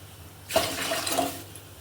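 Roughly four cups of water poured into a pot for steaming idli, a short splashing gush lasting about a second, close and alone with a faint hum behind it.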